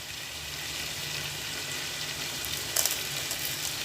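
Potatoes are sautéed with salt in a pan for a South Indian veg biryani, giving a low steady sizzle with one brief clink near the end.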